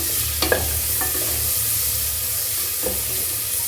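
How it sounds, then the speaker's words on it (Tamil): Green chillies and garlic sautéing in a pan for a pumpkin kootu, a steady soft sizzle with a few light scrapes of a spoon stirring, close and without talk. "அதையும் போட்டு நல்லா வதக்கணும்."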